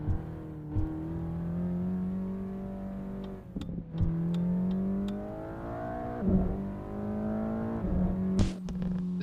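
A Mercedes engine in the racing game Assetto Corsa revs up and down in repeated smooth sweeps, with brief gear-change dips between pulls and a steady, close whine with no talk.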